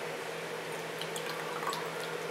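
Homemade aloe vera hand sanitizer poured into a bottle, a quiet continuous liquid trickle with small splashy drips over a faint low hum.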